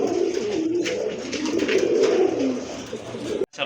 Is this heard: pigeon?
yes